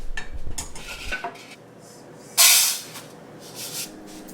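Roasted moong dal is tipped from a pan onto a plate with clinks and scraping of metal cookware, then a short burst of pouring, rattling grains, and a few softer knocks after it.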